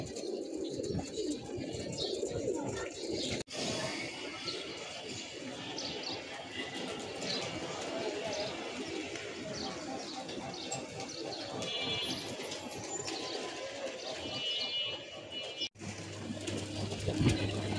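Pigeons in a loft, including female Sulli Gorra-style birds and a Chila Dobaj, coo continuously in low murmuring calls over soft rustling and chirps, with no talk.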